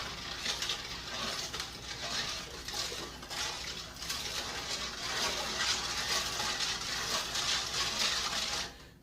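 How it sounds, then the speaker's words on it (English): A spoon stirs salt and sugar into water for a salmon brine, producing continuous close sloshing and swirling with light scraping against the bowl that stops abruptly near the end. "I'm just going to stir this until it's all dissolved"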